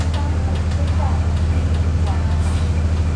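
Steady low engine rumble and road noise from inside a moving bus in Taiwan, constant and close, with faint voices murmuring underneath.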